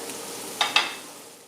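Vegetables and bell peppers sauteing in a pan, a soft sizzle broken by two quick close scrapes of a utensil stirring, then fading.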